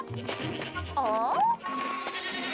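A single wavering goat bleat sounds briefly in an animated mountain scene, set among the chatter of cartoon characters.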